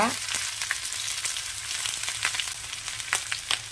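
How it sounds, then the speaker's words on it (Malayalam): Cumin, garlic and green chillies sizzle steadily in hot oil for a pickle, a close, continuous crackling fry with a few sharper pops, no voices. "ജീരകവും കൂടി ഇടുകയാണ് വെളുത്തുള്ളി ഇട്ടു പച്ചമുളക് പച്ചമുളകൊക്കെ ആവശ്യത്തിന് ഇടുക"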